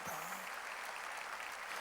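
Congregation clapping during a church worship service, a dense continuous patter of many hands at a fairly distant, even level from start to finish.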